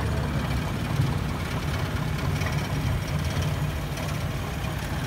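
A Toyota Kijang engine idles with a steady low rumble and a constant mechanical hum, close and unchanging throughout with no talk.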